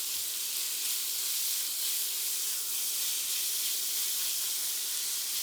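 Chopped chicken breast pieces frying over high heat in a pan, a steady, dense sizzle and hiss that holds evenly throughout, close and loud with no voices.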